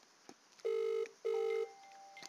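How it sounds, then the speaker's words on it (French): A mobile phone rings from a simulated outgoing call: two long electronic ring tones separated by a short gap, clear and alone over quiet background. "on entend le portable sonner"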